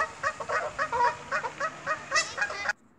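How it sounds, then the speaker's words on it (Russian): Wild ducks loudly calling and honking in a steady run of repeated squawks, close by and with no talk, before the sound cuts off abruptly near the end. "Это дикие утки вот так вот гуляют."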